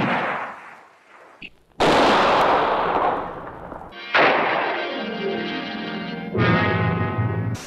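Gunshots ring out in a film adaptation of Agatha Christie's And Then There Were None, a few sharp loud blasts separated by pauses, each followed by a ringing decay, with no talk.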